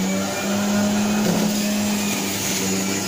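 A Sinbo slow juicer running on its second speed while juicing quince: a steady, loud motor hum with a constant low tone and grinding texture, uninterrupted throughout.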